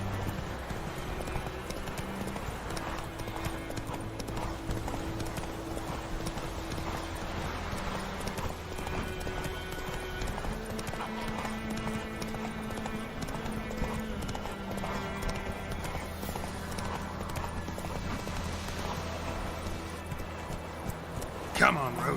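Roach the horse galloping in The Witcher 3, a steady rhythmic clip-clop of hooves running under game music throughout, with a voice talking over it.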